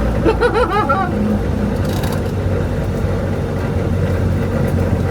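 A Renault 5 Gordini engine rumbles steadily at close range while driving a loop around an industrial estate, with a brief voice near the start over the low, continuous drone.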